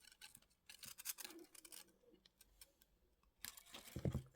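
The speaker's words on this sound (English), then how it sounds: "I'm going to cut that weaving wire" Wire cutters snip weaving wire on a wire-wrap pendant, giving a few faint, close metallic clicks and small scratchy handling noises in a quiet room.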